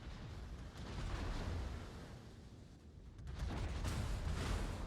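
Heavy naval guns firing during a World of Warships battle at the Japanese cruiser Izumo. Deep, rumbling booms blur into a dense roar of distant salvos that swells, eases off, then swells again.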